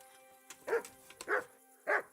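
Dogs in the medieval video game Kingdom Come: Deliverance let out three short, separate barks in a slow, evenly spaced sequence at moderate distance.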